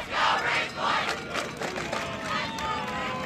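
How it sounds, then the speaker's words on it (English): Crowd at a high school 6A baseball regional quarterfinal cheering and yelling in loud swelling bursts, a roaring wall of voices from both sides of the stands that ebbs and rises throughout. "Absolutely great crowd on both sides."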